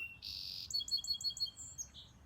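Clear, close bird song: a sustained whistled note followed by a quick series of bright repeated chirps, ending with a short trill.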